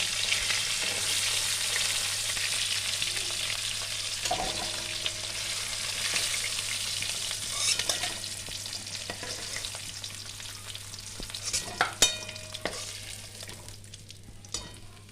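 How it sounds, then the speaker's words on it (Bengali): A large fish head fries in hot oil for Bengali muri ghonto, crackling and sizzling steadily up close, with scraping stirs and a few sharp utensil knocks near the end, over a low constant hum. "এটা একটু ভালো করে ভাজতে হবে যেহেতু বড়ো মাছের মাথা"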